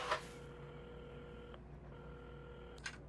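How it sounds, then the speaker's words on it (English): A phone is dialed in the cozy video game Assemble with Care, at a café counter: two sustained electronic dial tones follow one another, quiet and clean, with a soft click at the start and a brief blip near the end. "at the counter, Carmen had started dialing the phone."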